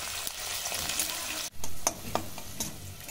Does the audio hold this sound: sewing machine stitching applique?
no